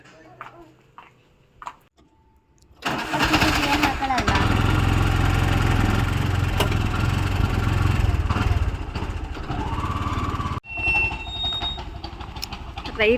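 Motorcycle riding at night on the way to a Kadu Malleshwara temple on Mahashivaratri, starting quiet with a few voices, then a loud engine and wind roar that runs steadily before cutting out and briefly resuming.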